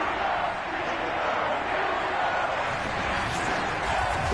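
Sold-out stadium crowd at Heinz Field in the football video game Madden 22, a steady, dense roar of many voices that holds at the same loud level throughout with no single voice standing out.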